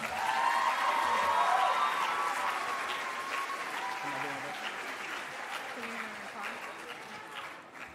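An audience at an 8th grade school promotion ceremony applauds for the junior scholars, a dense wash of clapping that swells early and then gradually tapers off, with voices faintly mixed in.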